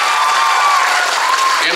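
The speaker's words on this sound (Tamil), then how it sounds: "ஒரு வாட்டி நீங்கள் விமல் அண்ணனுக்காக நீங்கள் கைத்தட்டணும்னு நான் கேட்டுக்கிறேன்." An audience claps and cheers at a Tamil film audio launch event, a dense, loud, continuous roar of clapping and crowd noise filling the hall.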